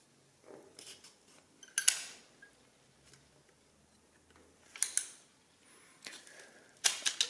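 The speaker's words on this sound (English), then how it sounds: "pull this lever down, and that pushes the paper onto the printing heads and prints the number that you've just entered" A Summira S printing adding machine prints an entered number after its lever is pulled down, giving a few sharp mechanical clacks and ratchety ticks in separate bursts, close and fairly quiet.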